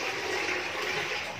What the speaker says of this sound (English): flushing the toilet bowl to wet the surface